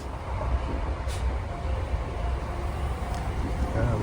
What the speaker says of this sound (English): just sat myself down for the last 20 minutes on this train heading towards Motherwell